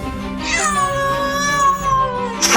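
A cat gives one long, drawn-out meow up close, ending with a brief noise at the end.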